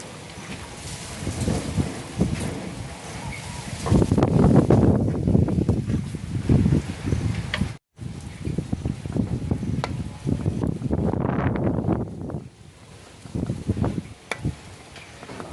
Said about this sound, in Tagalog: Ang hangin dito sa amin ngayon